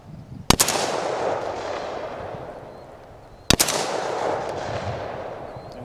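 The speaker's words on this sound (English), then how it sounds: "And we heard a ricochet on that one" Two sharp AR-15 rifle shots ring out about three seconds apart outdoors, each a loud crack fired at a disc target followed by a long echoing tail, with no talking.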